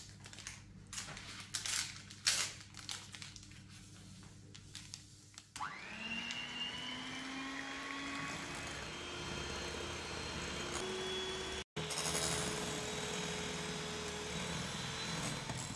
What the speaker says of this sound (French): Je vais commencer par monter les œufs avec le sucre. Donc là, je vais battre à vitesse moyenne.